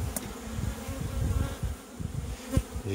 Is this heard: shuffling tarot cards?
no